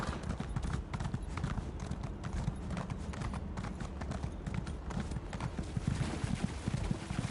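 Rapid, continuous clip-clop of horse hooves trotting in Elder Scrolls Online, fairly loud and close, with a dense game-like rhythm throughout.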